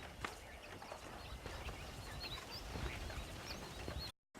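Horse hooves clip-clop steadily in Red Dead Redemption, a faint, continuous rhythmic patter over outdoor ambience with occasional bird chirps, cutting briefly to silence near the end.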